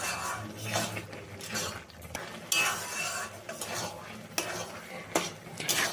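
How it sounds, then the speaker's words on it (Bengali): Chicken Maggi noodles are stirred in a pan on the stove, with irregular scraping and clinking of a utensil against metal over a faint sizzle, close and fairly quiet, with no voice. "আবার এটা ভালো করে একটু মিশিয়ে নেবো।"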